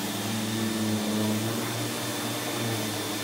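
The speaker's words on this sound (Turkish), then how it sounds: "Şimdi makineyi çalıştırıyoruz arkadaşlar her zamanki gibi." An İhlas Aura Cleanmax vacuum cleaner runs on a mattress, its steady, close, airy motor drone holding unbroken throughout.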